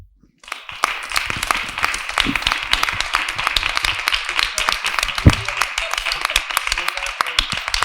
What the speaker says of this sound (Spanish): Suena el aplauso un poco raro, ¿no?